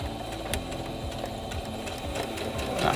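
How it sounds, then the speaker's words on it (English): Sewing machine stitching a seam on a fabric face mask, running steadily with a rapid, even mechanical chatter close up, no pauses. "when I sew, I follow that line, but I always back tack a little bit"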